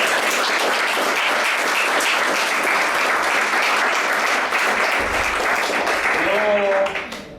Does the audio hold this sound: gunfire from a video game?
no